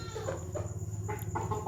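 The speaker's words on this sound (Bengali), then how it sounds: "এই দুটো মোরগ" Two young roosters cluck close by in a few short, throaty bursts over a low steady hum.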